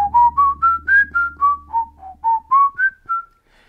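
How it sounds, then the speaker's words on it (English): A person whistles a simple melodic tune, about a dozen clear, clean notes rising and falling in a steady rhythm, loud and close with no other sound. "I had to learn how to whistle for obvious reasons."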